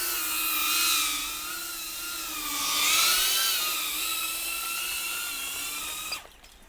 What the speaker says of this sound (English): this drone flies so good